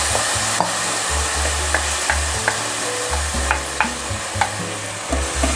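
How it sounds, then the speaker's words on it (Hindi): Broken wheat dalia is added to a pan of chicken and vegetables and stirred, producing a steady sizzle over low frying rumble with repeated sharp spoon-scraping clicks at an irregular pace, close up and with no talking. "इसमें मैं डालूँगी ये दलिया।"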